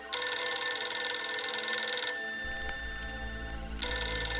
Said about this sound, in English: The red phone, an evening call.